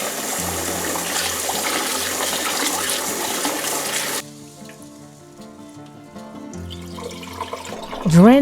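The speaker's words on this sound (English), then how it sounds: "Drain the rice." Washed basmati rice draining as water pours out, a steady rushing splash for about four seconds, then quieter trickling with faint clinks of the grains and pot, and a louder pouring burst at the end.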